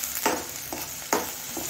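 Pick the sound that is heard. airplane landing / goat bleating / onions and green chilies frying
onions and green chilies frying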